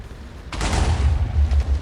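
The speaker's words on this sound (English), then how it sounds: "So those are the bombs." Bombs dropped from an airship in the Viescraft video game explode with a sudden loud burst, followed by a rolling, rumbling roar of blasts that continues to the end.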